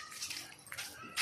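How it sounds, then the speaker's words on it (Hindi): A dog perched on top of a vehicle outside a village home gives faint, brief whimpering yips at a distance. "देखिए एक कुत्ता है जो गाड़ी पर चढ़ के ऊपर बैठे हुए हैं"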